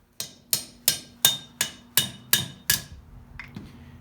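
A blacksmith strikes metal on a swage block in eight evenly spaced, ringing hammer blows, close and clear with a short metallic decay after each, then a couple of lighter taps.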